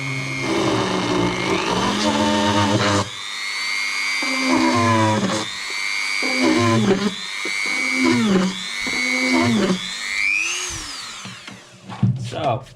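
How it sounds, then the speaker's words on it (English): Power drill boring into a piece of wood while building a DIY power supply, loud whining bursts that repeatedly spin up and slow down, with short pauses between passes. "So let's start drilling."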